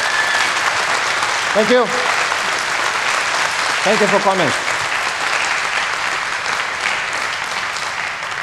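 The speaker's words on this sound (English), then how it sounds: "Please give him another warm applause" Sustained, broad applause from a hacker conference audience for a speaker after his quantum cryptography talk, with someone briefly saying thanks over the clapping.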